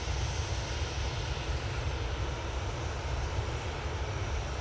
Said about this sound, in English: It is the Aer Lingus coming in from Belfast using their ATR 72.